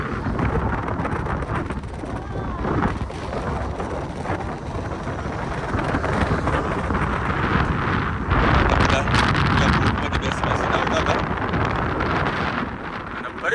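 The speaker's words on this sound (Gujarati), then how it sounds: "માફ કરજો થોડો પવન આવશે" Wind buffets the microphone steadily and loudly throughout in Dwarka, a continuous rough roar with a voice partly buried beneath it.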